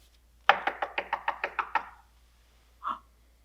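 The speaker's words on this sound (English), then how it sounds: "Again, someone was at Amu's door." Eight quick knocks rap on a wooden door in an even, rapid run. After a short pause a single softer tap or thump follows, with no voices.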